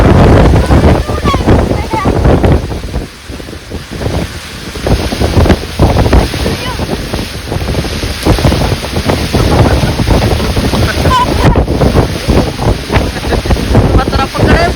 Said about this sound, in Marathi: पाऊस तर एवढा आलाय बेकार.